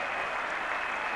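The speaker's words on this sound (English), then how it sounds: "And the crowd has gone noisily berserk." Cricket crowd at a 1981 Ashes Test bursting into loud, dense applause and cheering after a wicket, a continuous wall of clapping and roaring from a large stadium audience.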